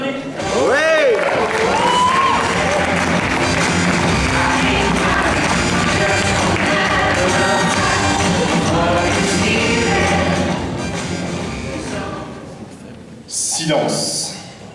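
Audience at a French slam poetry contest applauds and cheers a poet, a loud steady wash of clapping and voices sustained for most of the stretch before fading, with a brief surge near the end.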